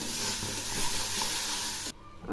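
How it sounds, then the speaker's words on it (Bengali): Palm juice mixture for taler sandesh sizzles and hisses steadily in a hot pan as it is stirred, a dense, close frying noise that cuts off abruptly near the end. "এগুলি আবার একটু নেড়ে দিচ্ছি"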